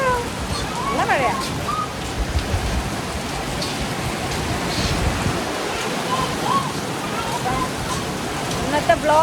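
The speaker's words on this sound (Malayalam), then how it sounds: "മഴയാണ് ഗൈസ്, അടിപൊളി മഴ." Heavy rain pours down steadily, a dense, loud wash of drops hitting surfaces that barely changes over the whole stretch, with a voice faintly present underneath.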